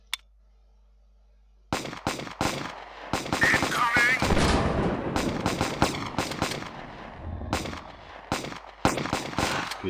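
In the zombie game Zombie Defense, grenades and gunfire go off after a short silence: rapid loud bursts and heavier explosions in quick succession, some rumbling blasts, with a voice briefly audible among the shots.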